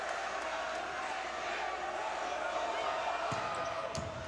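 Steady roar of the Loyola crowd during a serve at the 2014 men's volleyball championship against Stanford, a continuous arena noise with a few sharp ball impacts near the end.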